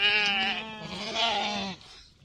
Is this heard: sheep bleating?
yes